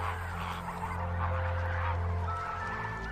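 Waterbirds such as flamingos, pelicans, storks and herons call at Sambhar Lake, a continuous chorus of honking, goose-like cries heard at moderate distance with no talk.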